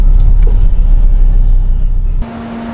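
A car rolls into a temporary parking area at a residential development, a loud, close low engine rumble that runs steadily before dropping abruptly to a quieter idle hum.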